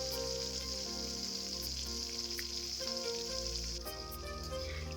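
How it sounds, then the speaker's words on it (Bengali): Rui fish head fries in hot oil for muri ghonto, a continuous dense sizzle with scattered pops, steady and close throughout, with no voices. "তো আমরা প্রথমে রুই মাছটাকে এপিট ওপিট করে ভেজে নিব"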